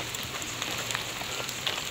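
Heavy rain falling behind a house, a dense, steady hiss that stays constant throughout, with scattered small drip-like ticks.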